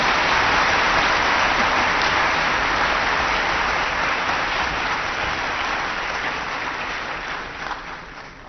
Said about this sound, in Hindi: चेस पावर हाउस के थोड़ा ताली तो बजाओ